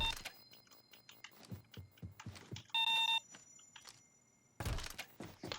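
Electronic beeps sound in short bursts amid soft game thuds and clicks, with quiet rhythmic pulses between them, in the video game Payday 2.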